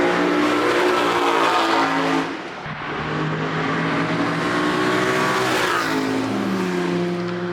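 A 4.3-litre dry-sump V8 car at speed on the Donington Park track, its engine roaring loud and near, revving through rising pitch sweeps with a brief dip at a gear change before surging again.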